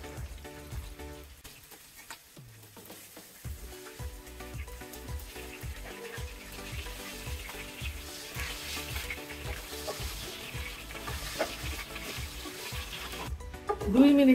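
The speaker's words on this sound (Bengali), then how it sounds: "দুই মিনিটের মতো মশলা কষিয়ে নিয়েছি।" Spices sizzling and frying in a pan for a Bengali pumpkin greens dish, a steady crackling hiss with light spattering throughout, a voice speaking softly beneath it.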